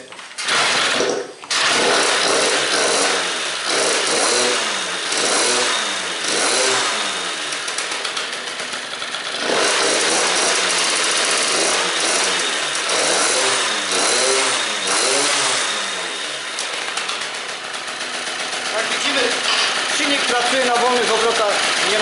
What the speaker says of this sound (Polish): przystępujemy do pierwszego uruchomienia silnika